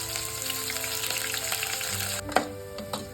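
Shallots and curry leaves fry in hot oil with a loud, continuous sizzle, interrupted by a couple of sharp stirring clacks near the end.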